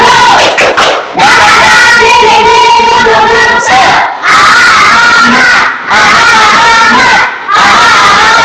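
Schoolchildren in a classroom performing the tepuk semangat clapping chant, loud unison shouted chanting in rhythmic bursts separated by short pauses, with faint clapping mixed in.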